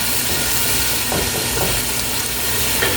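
A Cameroonian dish's mixture stirred in a pot as it fries, a steady loud sizzle and hiss with soft scraping stirs underneath, close and without talk.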